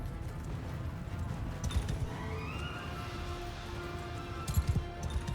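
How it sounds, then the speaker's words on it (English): Horses in the Mount & Blade II Bannerlord battle game neigh and whinny amid a dense rumble of galloping hooves, with louder thuds and clatter bursting through near the end. "when the horses run through you"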